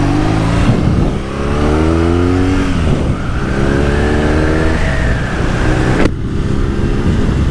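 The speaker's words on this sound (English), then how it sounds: "The exhaust, it's a little bit on the quiet side, but whenever you're not going that fast, you can hear it." A 2021 BMW R NineT motorcycle engine and exhaust, loud and close, revving up through rising pitch sweeps with a steady throaty drone, then dropping off sharply near the end.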